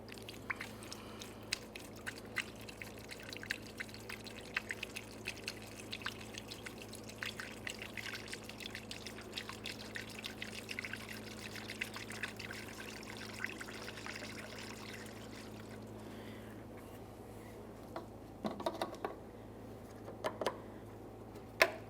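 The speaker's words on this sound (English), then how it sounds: "Now let's top off that coolant reservoir." Coolant is poured through a funnel into the coolant reservoir of a 2008-2017 Mitsubishi Lancer, a faint, steady trickle that runs throughout with a few soft ticks and drips.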